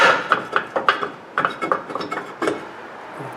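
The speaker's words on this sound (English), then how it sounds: "I'm going to take the rotor off." Metal knocks, scrapes and clanks as a rusted rear brake rotor is worked off a 2014 Honda Pilot, a run of sharp close taps and rattles at an uneven pace with no talking.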